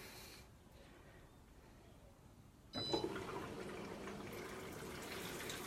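An Electrolux washing machine set to an extra-low water level starts filling, a soft hiss that suddenly swells into a steady rushing flow of water halfway through, heard close up in a quiet space.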